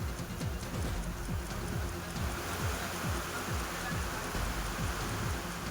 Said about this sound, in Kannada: ಧಾರಾಕಾರವಾಗಿ ಮಳೆ ಸುರಿತಾ ಇದೆ.